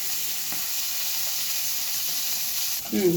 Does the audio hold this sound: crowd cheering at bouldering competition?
no